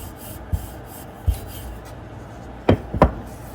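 Roti dough being rolled out with a rolling pin: soft rubbing and rolling strokes with a few short knocks and thumps at irregular intervals, close by and fairly quiet, without talk.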